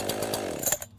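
An Echo CS-4910 or CS-590 chainsaw engine runs close by with a steady buzzing drone, then cuts off near the end into sudden quiet.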